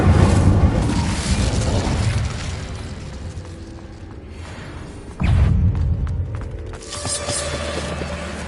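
Incendio fire spell cast in the Hogwarts Legacy video game: a loud whooshing burst of flame over a low rumbling bed, followed by another sudden booming surge partway through, with a fiery crackle trailing off.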